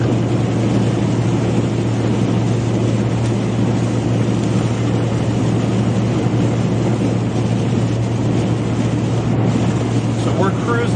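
A car cruises south on Interstate 35 south of Wichita, Kansas, toward Wellington during severe weather, its steady engine hum and road roar constant and close from inside the cabin, with faint talk underneath.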